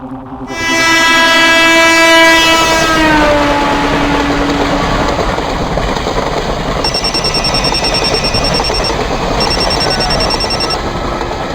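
A train runs close by with a loud, sustained horn blast that slides downward in pitch and fades after a few seconds, giving way to a steady heavy rumble and rail clatter with a thin high whine later on.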